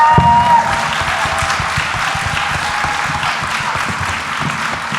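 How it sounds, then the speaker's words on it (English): An audience at a political discussion event applauds a departing speaker, loud, continuous clapping from a packed room with a few close, sharp claps at the start and a faint voice underneath. "A round of applause for Zoe Great Williams."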